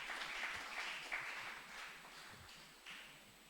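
A church congregation applauds the Lord, rhythmic clapping spread through the hall, fairly faint and steady over a few seconds with no voices standing out.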